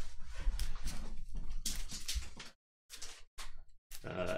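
A dog making close, short vocal sounds and snuffling noises in irregular bursts, broken by brief silent gaps, with faint indoor shuffling.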